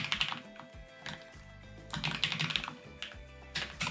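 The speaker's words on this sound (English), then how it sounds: "So just gonna type this" Rapid typing on a computer keyboard, close and clear, in several quick bursts of key clacks separated by short pauses.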